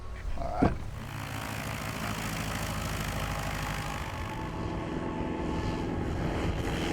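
Steady drone of a Piper Super Cub small propeller airplane engine, continuous and fairly loud throughout, heard from inside or near the plane with a brief knock near the start.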